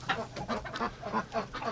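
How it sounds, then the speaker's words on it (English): Several ducks crowded inside a coop quack and honk in quick repeated bursts, close and fairly loud, overlapping calls forming an agitated rhythmic chorus with no talk. "For this many ducks to be inside this time of day, there's something going on."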